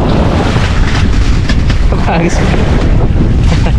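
Strong wind buffeting the microphone on a handline fishing boat at sea in a constant loud rumble, with waves and faint voices underneath.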